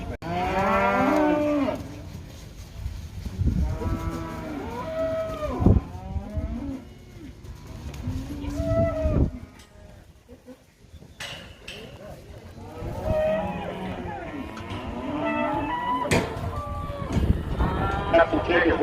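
Cattle at a campdraft camp moo repeatedly in long, loud, drawn-out calls from several animals, some near and some farther off, with short gaps between calls.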